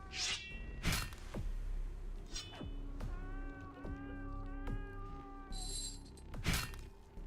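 A cat meows repeatedly in a video game, several short wavering calls in a row, mixed with sharp swooshes and clinking hits, loud and close.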